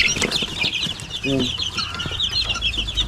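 Native chickens cluck in a busy flock, a steady chatter of short overlapping clucks under high-pitched background noise, close by.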